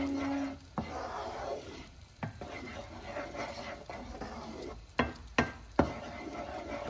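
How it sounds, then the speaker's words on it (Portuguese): Garlic sizzling in a pan with melted stock cube, a soft frying hiss under repeated scraping strokes of a utensil and several sharp knocks against the pan, close by. "Agora a gente começa a mexer aqui o alho"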